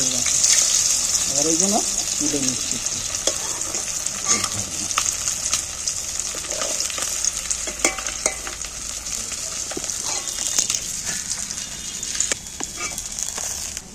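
Fish frying in plenty of hot oil in a wok, a steady loud sizzle with stirring and scraping clatter throughout, while a voice talks intermittently over it.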